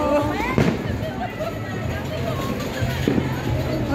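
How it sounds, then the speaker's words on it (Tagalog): Fireworks and firecrackers set off during Chinese New Year celebrations, heard as a continuous crackling din with scattered louder bangs, mixed with crowd babble and voices nearby. "Ang dami ng pinakawala na paputok ha."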